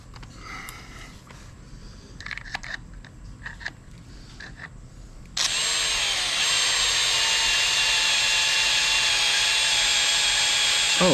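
A power drill drives an M8 tap into an engine block during a Hemi swap, starting with faint handling noises and then a loud, steady whining run that holds for several seconds.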